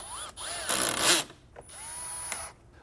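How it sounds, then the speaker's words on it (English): A power driver briefly spins T25 screws back in during a radiator job on a Mk8 VW Golf R, giving a few short whirring bursts with a louder middle burst, close by, separated by brief pauses. "Now we'll take the two T25 screws and reinstall them."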